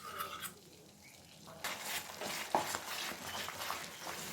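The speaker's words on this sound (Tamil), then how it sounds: "கைவிடாமல் கிண்டிகிட்டே இருக்க வேண்டியதுதான்." A spoon stirs thickening bread halwa with ghee in a pan, giving soft scraping strokes and a low sizzle, with a few sharper clinks against the metal, faint and close.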